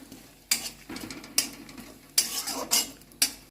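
Five cardamom pods and cumin seeds being stirred in hot oil for a veg dal, with a spoon scraping and knocking the pan in several sharp strokes over a soft sizzle.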